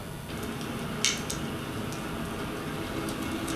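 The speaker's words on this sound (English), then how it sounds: "That's what they call scatter, that noise there, it's just the ocean." Underwater ocean scatter noise recorded by a submarine: a constant, diffuse hiss and rumble with faint scattered clicks and one sharper tick, steady and featureless throughout.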